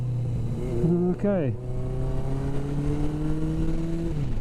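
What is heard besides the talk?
Yamaha XS1100 motorcycle engine while downshifting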